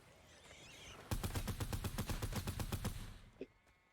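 Rapid automatic gunfire from Fortnite: Save the World: about fourteen loud, evenly spaced shots in a fast burst lasting roughly two seconds. One fainter shot follows after a short pause, with quiet game ambience before and after.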